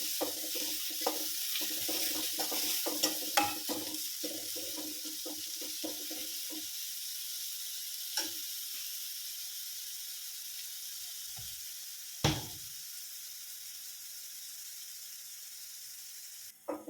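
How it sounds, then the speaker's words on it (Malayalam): Squeezed bitter gourd for pickle fries in a pan with a steady, close hiss. Scraping clinks come early, then the sizzle carries on alone and there is no talking. "ഇതിലേക്ക് പാവയ്ക്ക പിഴിഞ്ഞെടുത്താണേ, അതിട്ട് കൊടുക്കുക. ഒന്ന് ഫ്രൈ ചെയ്തെടുക്കുക."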